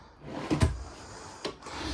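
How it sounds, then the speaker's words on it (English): A wooden dovetail drawer in a 2026 Brinkley Model Z 2680 RV slides and bumps twice, a soft thud followed by a second knock, close and fairly quiet with no voices. "You've got 3 of these dovetail drawers right here."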